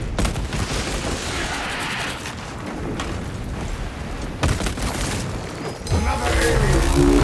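A Techmarine's servo gun fires in the Warhammer 40k game in rapid, loud bursts of gunfire. Booming impacts and mechanical clatter are mixed in, ending in a heavier final volley.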